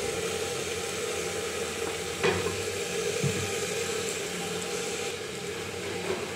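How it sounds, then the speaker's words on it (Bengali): Oil goes into a hot wok and heats with a soft, steady sizzle close by, broken by a couple of faint clinks from utensils. "কড়াই গরম হয়ে গেছে, এবার তেল দিয়ে দিলাম।"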